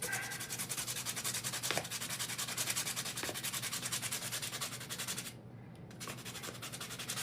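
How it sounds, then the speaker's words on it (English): Sandpaper rubs steadily against a surface while fur texture is being shaped, making a close, continuous rasping scrape with a brief pause near the end. "And usually have some sandpaper here to sand it."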